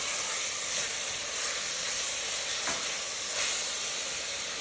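Shaoxing cooking wine sizzles in a hot wok during a shrimp with lobster sauce stir-fry, a steady close hiss and crackle running unbroken with faint stirring scrapes.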